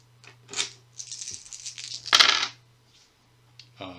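Five dice rolled for an attack in a Shadows of Brimstone board game, clattering in two quick bursts with a sharp rattling peak, then settling, close and clear with no talk.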